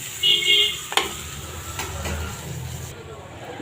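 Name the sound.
shrimp frying crisply in oil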